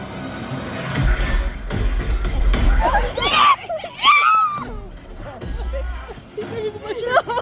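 A viewer screaming with excitement during the credits of the Sonic the Hedgehog 3 movie, with high, loud, wavering shrieks mixed with laughter and excited talking, all close to the microphone.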